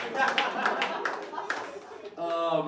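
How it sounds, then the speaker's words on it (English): A comedy club audience at a New York stand-up show claps in a fairly dense burst of applause while a voice talks over it. "clap it up for Nate"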